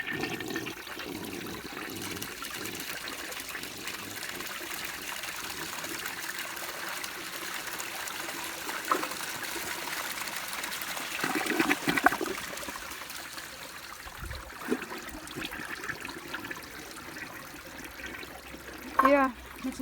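A 1961 Standard Cadet toilet flushes with a rushing, gurgling swirl of water that tapers into a steady trickle and refill, heard close up while someone speaks intermittently.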